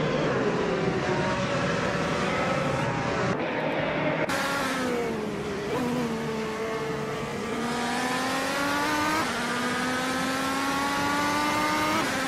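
Race car engines in a racing video game, several cars closely matched in a battle for third, a continuous loud high-pitched drone with rising and falling revs as gears shift, no voices.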